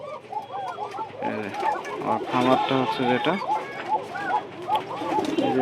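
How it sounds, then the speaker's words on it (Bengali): Many pigeons at a pigeon farm coo in overlapping, repeated rolling calls close at hand, while someone talks over the flock. "আর এখানে অসংখ্য কবুতর আছে, আমার খামারের এক অংশ একটু দেখানোর চেষ্টা করছি।"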